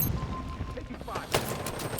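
Rapid gunfire bursts in the video game Halo Infinite during a 4v4 arena match on the Bazaar map, with a sharp louder shot near the middle over a dense, continuous bed of game sounds.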